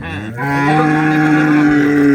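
A single long, loud moo from a dairy cow nearby, deep and sustained for about two seconds.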